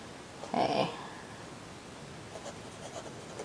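A fine titanium fountain pen nib scratches across paper in a short, close burst of dry scraping strokes, then the scratching drops to a faint rasp.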